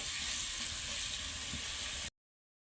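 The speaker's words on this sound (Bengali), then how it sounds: "তরকারিটা কষিয়ে নেব।" Curry being sautéed in a pan, a steady soft sizzle and frying hiss heard alone at low volume before cutting off abruptly.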